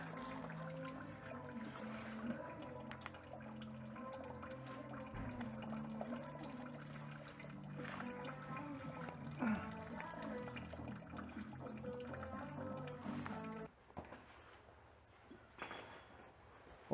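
Water drains from the radiator drain plug of a 2015 Suzuki Jimny, a soft steady trickle and splash that continues for most of the clip before quietening.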